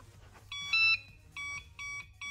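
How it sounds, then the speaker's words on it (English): Electronic warning beeps from a Hover1 Nova hoverboard lifted off the ground: a longer two-tone beep, then three short, evenly spaced high beeps, close and clear with no talking. "It starts, beeping because it's not in the ground."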